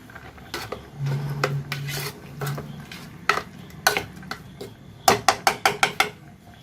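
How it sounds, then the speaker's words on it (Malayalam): Ingredients for sweet bun dough being mixed in a bowl, heard as close scraping and rasping strokes followed by a quick run of sharp knocks and taps near the end, with no talking. "ഒന്ന് മിക്സ് ചെയ്ത് കൊടുത്തിട്ട്"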